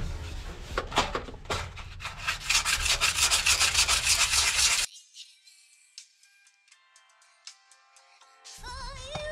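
Sandpaper rubs hard against a Honda Civic EG car interior panel, a steady scratchy back-and-forth for several seconds, close and loud, then stops, leaving quiet handling noises.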